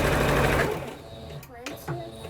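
A sewing machine stitches a seam with a 3/8 seam allowance, a fast loud mechanical whir for the first half second that then stops, followed by faint voices.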